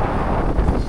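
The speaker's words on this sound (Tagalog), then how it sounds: "sa sobrang lakas ng hangin" Strong wind roars steadily into the microphone for nearly a second, a dense, loud rumble with gusting buffets, outdoors in the Philippines where the gusts are strong enough to knock things over.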